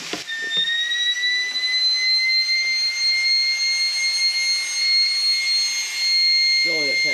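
Pressurized air hissing steadily out of a leaking epoxy test plate under pressure, a continuous high whistle holding for several seconds, close and loud, with brief voices at the start and end.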